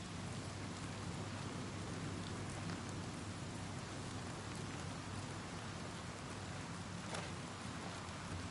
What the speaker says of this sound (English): Oh, it's a storm.